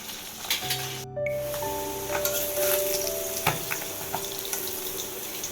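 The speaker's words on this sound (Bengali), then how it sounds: "মাছটা দেখো এক সাইড করে ভাজা হয়ে গেছে।" Fish frying in a pan after being flipped, a steady sizzle with hissing spatters and a few clinks, accompanied by sustained tonal hums in the background.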